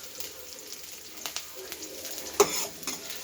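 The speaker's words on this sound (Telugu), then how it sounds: "ఆనియన్ కొంచెం వేగాక కరివేపాకు వేసుకోవాలి." Onion and curry leaves fry in a pan with a steady soft sizzle, broken by scattered stirring scrapes and one sharper clink midway.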